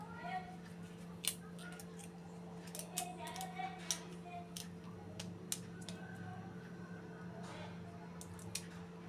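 Scissors snipping through a flattened red plastic bottle, slitting it open with repeated short crisp cuts spaced irregularly, fairly faint beneath a steady low hum.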